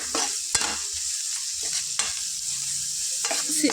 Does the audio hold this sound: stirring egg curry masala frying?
yes